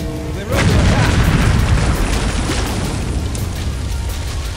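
Heavy booming explosions rolling across a city in the video game Empires DMW, opening with a sudden loud blast that settles into a sustained rumbling roar of continuous detonations.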